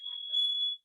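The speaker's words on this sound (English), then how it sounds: "I have to go turn off an alarm." A smoke alarm in a house sounds a single loud, steady high-pitched electronic tone for under a second, then cuts off abruptly, with no talking.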